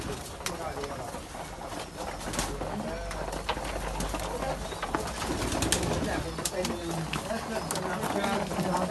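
Pigeons coo in a busy loft, soft repeated calls under continuous speech and general rustling and movement noise throughout.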